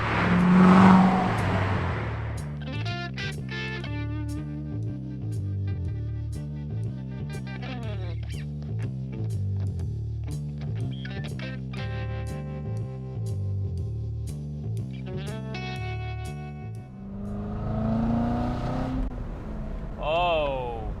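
A 2015 Chevrolet Corvette Z06 accelerates hard through repeated gear changes, engine pitch climbing and dropping in rhythmic sweeps, heard from inside the car with someone talking at the start and end.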